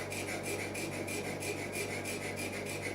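A piercing saw cuts through a piece of pearl held vertically in a homemade vise and backed by plywood for a guitar headstock inlay. Steady, quick rasping strokes repeat in an even rhythm, close and fairly quiet, with no speech.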